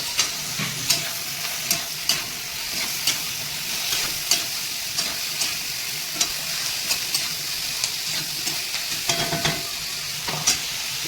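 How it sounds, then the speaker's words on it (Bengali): Steady sizzling of okra frying with repeated scraping clicks of a utensil stirring the pan, close and continuous throughout. "দেবো ঢ্যাঁড়সটা একটু ভাজা ভাজা করতে হবে আমি ঢেঁড়সটা তুলে দিচ্ছি"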